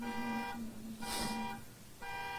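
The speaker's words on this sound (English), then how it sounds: "Do y'all hear the alarm going off?" An alarm goes off with a steady electronic buzzing tone that cuts out and restarts in a repeating on-off pattern. A brief hiss burst rises in the middle.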